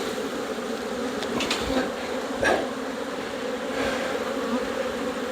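Honeybees buzzing steadily around an opened hive of brood and honey frames, a dense continuous drone with a few individual bees passing close by.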